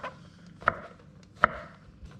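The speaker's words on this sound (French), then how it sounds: "On vient couper." Kitchen knife slicing button mushrooms into thin rounds on a board for a duxelles, giving two sharp, close chopping taps about a second apart with no speech.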